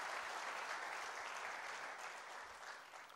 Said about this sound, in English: Come on, don't you have an applause for that?